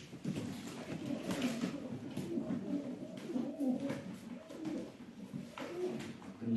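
Pigeons cooing inside a coop holding twenty or so birds, soft repeated throaty coos overlapping in a steady murmur, fairly faint and close, with a few light rustles.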